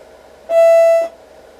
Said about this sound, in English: Here the beep that we hear.